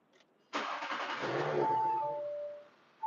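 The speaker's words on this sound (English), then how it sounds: "So now I need to start engine one more time." A car engine cranks and catches after a brief quiet moment, settling into a steady running hum that fades slightly before another sharp burst at the end.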